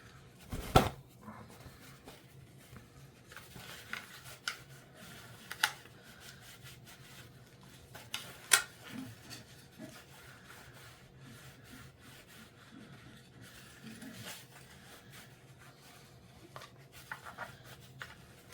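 A cloth wipes black residue off the side mirror glass of a 2007 Saab 9-3 Anniversary Edition, making quiet, close rubbing strokes at irregular intervals with a few sharper scrapes, and no one talks.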